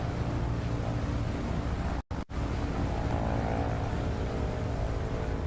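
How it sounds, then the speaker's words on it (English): Propeller aircraft engines drone loudly and steadily through a takeoff roll in Microsoft Flight Simulator during a Heritage eSTOL competition, with a brief cut to silence partway through. "We can hear the planes on the roll"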